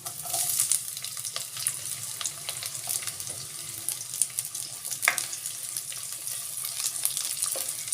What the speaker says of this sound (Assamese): তেলখিনি গৰম হৈ গৈছে, এতিয়া ইয়াত মই নহৰু দি দিছোঁ। আৰু লগতে মই পিঁয়াজো দি দিছোঁ।